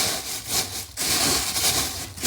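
Reclaimed barn wood floorboards on a kitchen floor are sanded close by, with loud, rasping back-and-forth strokes and a short pause partway through.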